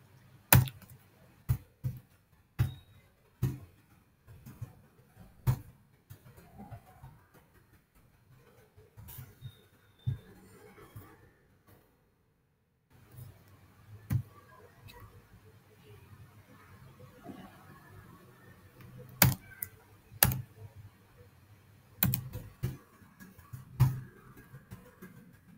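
Typing on a computer keyboard while a password is entered: sparse, sharp, close key clicks that arrive singly and in small clusters, separated by quiet gaps, with faint background noise and no talking.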